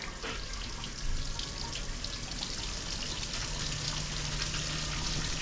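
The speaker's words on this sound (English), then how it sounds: "I see water coming out." Steady, fairly loud broadband rush of water pouring out of a pipe fed by a koi pond pump, continuous and close with no talking.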